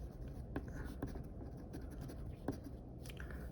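An old Fisher Space Pen refill scratching across paper, faint, close-up strokes with intermittent sharper ticks in an irregular rhythm, alone.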